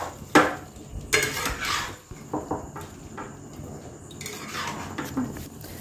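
A spatula scrapes and clanks against a pan as chili chicken is stirred: a series of close metallic knocks and scrapes in uneven bursts, with a faint sizzle between them and no speech.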